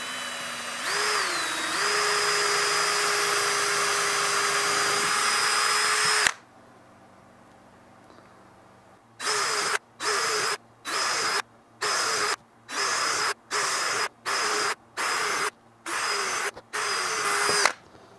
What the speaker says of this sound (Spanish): Estoy haciéndole agujeros para donde van a pasar los tornillos para prevenir que la madera se quiebre.